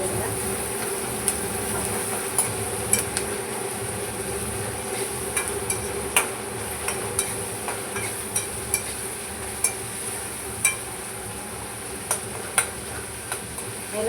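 A spoon stirs onions and tomatoes sautéing in a pan for a spicy crab masala, giving a run of sharp, irregular clicks and taps over a low, steady background hum.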